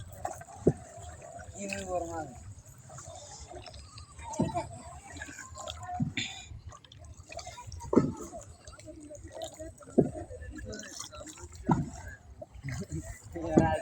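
A rowboat moves across floodwater in a village near Itna, Kishoreganj. Dull oar strokes and splashes come roughly every two seconds, with people talking nearby throughout.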